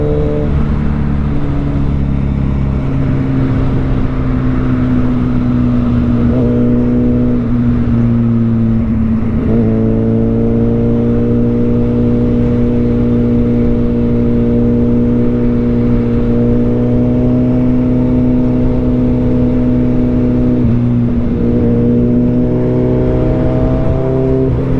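A 2024 25th Anniversary Suzuki Hayabusa motorcycle rides at speed, its engine giving a loud, steady drone with rising and falling pitch shifts as the revs change, under strong wind rush.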